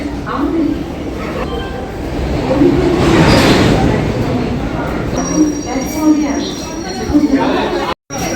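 Train 22612 from New Jalpaiguri to Chennai standing at the busy New Jalpaiguri station, a low rail rumble with a brief wheel squeal over crowd chatter and nearby voices talking, with a short dropout near the end.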